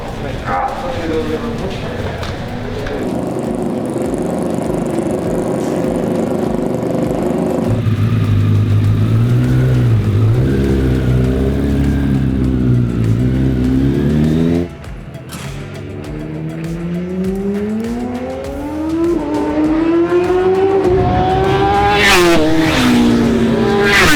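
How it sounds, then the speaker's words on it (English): Racing motorbike engines in the RiMS Racing video game scream and rev up and down through gear changes, with the pitch rising and falling as the bikes accelerate and pass close by. "the sound of these marvelous motorbikes when they're on track"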